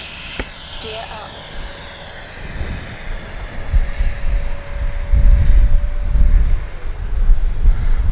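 An FMS F-18F 70mm RC jet takes off with a steady high-pitched ducted-fan whine that builds to a louder, rushing roar as it accelerates away, heard outdoors against wind noise.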